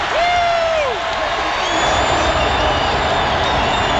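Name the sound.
football crowd cheering and applauding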